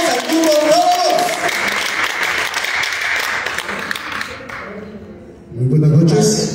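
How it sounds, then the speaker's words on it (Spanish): An audience at an evening folk ballet performance bursts into sustained applause, loud dense clapping that swells and fades over several seconds, while a voice on a microphone speaks over it. "un aplauso fuerte"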